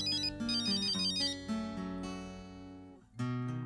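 A telephone rings with a bright electronic melodic ringtone, close and steady, with a brief dip before the tune resumes; no one speaks.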